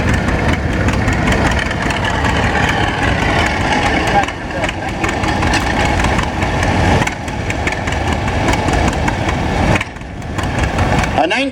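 A 1949 Model M two-cylinder tractor runs steadily nearby with a continuous loud engine drone, while an announcer talks over it.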